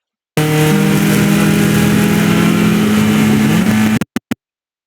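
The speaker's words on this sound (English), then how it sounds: "I'm at maximum braking position at this point. I'm getting my downshift done" A race car at VIR North brakes hard and downshifts, its engine a loud, close, sustained drone whose pitch slides down, then cutting off into a few short blips.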